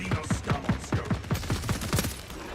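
Pistol in Space Marine 2 emptying a full magazine, a rapid regular string of about a dozen sharp shots at close range, with no talk over it.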